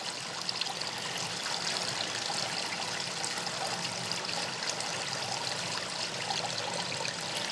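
Hot melted beeswax pours through a strainer into trays in a steady, continuous trickling stream, close and even for the whole stretch, with no talk.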